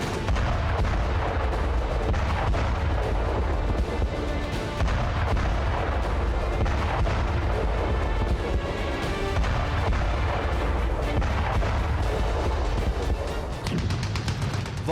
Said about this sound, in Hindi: वॉर जोन में तब्दील हो चुके पूरे अफगानिस्तान के चप्पे चप्पे में बारूदी धमाके हो रहे हैं।